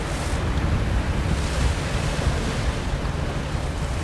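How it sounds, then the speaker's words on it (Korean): Rough sea with waves around a fishing boat hauling octopus traps in heavy swell and wind, a steady close wash of surf and wind noise filling the whole stretch without pause. "결국 거세진 파도 때문에 조업이 잠시 중단됐습니다."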